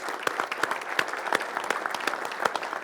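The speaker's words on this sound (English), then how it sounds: "Let's give Jim a round of applause for all the PA guys." Crowd applause at a large event, a steady round of clapping from many people in a hall, dense and continuous for a few seconds with scattered louder claps.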